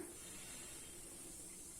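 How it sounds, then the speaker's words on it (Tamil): Mustard seeds spluttering in hot coconut oil in a pan, a quiet, steady hiss of frying with no talk over it. "இப்போ கடுகு பொரியுது."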